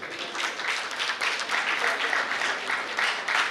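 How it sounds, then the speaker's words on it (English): A crowd applauds steadily throughout, a dense wash of many hands clapping at moderate volume, with some voices mixed in. "So you can all clap for yourselves."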